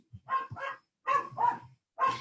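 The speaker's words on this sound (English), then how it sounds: "Sorry, that is my dog." A pet dog barks in the background, five loud, sharp barks grouped in pairs and a single, close and clear with short silent gaps between them.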